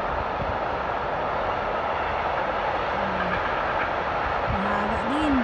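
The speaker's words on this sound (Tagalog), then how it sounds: "So may dadaan na cargo train." A long cargo train rolls past nearby, making a loud, steady rumble with rail noise that continues unbroken, and a few faint tonal squeals appear near the end.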